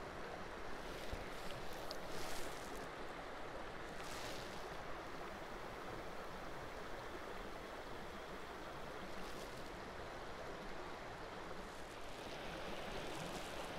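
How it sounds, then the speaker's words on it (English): A creek flows beside a muddy stretch of the Abbott Loop Trail, giving a continuous, faint, even rush of water with no other sounds standing out. "And just the sound of the creek."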